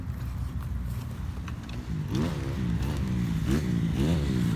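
Kawasaki KX250F motocross bike engine idling roughly, then revving in repeated throttle blips that rise and fall several times, loud and close during jump training on a track.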